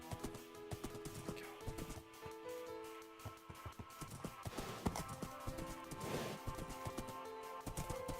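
Horse hooves clip-clopping in a modded Minecraft world (GregTech New Horizons), a quiet, steady run of clicky hoof steps with some clattering blocks.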